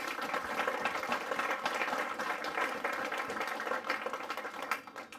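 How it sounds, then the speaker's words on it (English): A crowd at a County Grand Orange Lodge of Glasgow event applauds to welcome lodge officials, dense sustained clapping that fills the room, then thins out toward the end. "Can you put your hands together and give them a warm welcome?"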